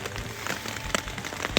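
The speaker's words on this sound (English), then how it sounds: "It looks like I'm gonna have that rain all day, all night." Rain falls outdoors along the Florida Trail, a soft steady patter with a few sharper nearby drops landing on surfaces, faint and close, with no speech.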